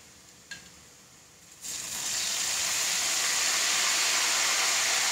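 Turmeric and salt water is poured into jackfruit chips frying in hot oil, and after a small clink it bursts into a loud, sustained sizzling hiss that stays steady to the end.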